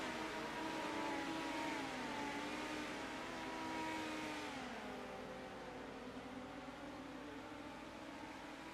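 IMA race cars on the front straightaway at Knoxville, a blended roar of engines with rising and falling pitch as cars pass, heard at a distance, steady and moderately faint.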